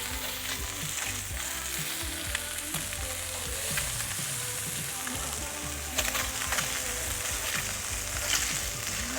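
Spanish mackerel fillets sizzling in olive oil in a pan, a steady close crackle and hiss with occasional louder pops and soft stirring or scraping sounds.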